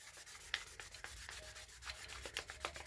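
Rhythmic scratchy sanding strokes, a steady back-and-forth rasp repeating several times a second, close up and alone.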